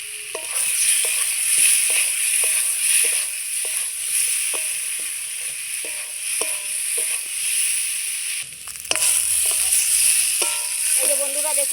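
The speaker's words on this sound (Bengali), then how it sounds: "শলা কচু আলুটা ভেজে নেওয়ার জন্য" Shola kochu taro and potato frying in oil with salt and turmeric, a steady bright sizzle broken by regular scraping stir strokes, with a louder clatter and shuffle near the end.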